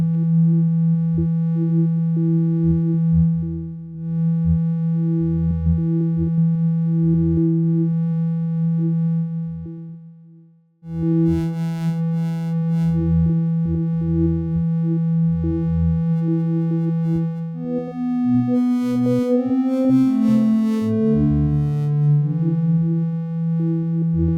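A synthesizer drone pad made in Pigments hums steadily with a softly pulsing texture. It drops out briefly midway, then returns with shifting, wavering tones.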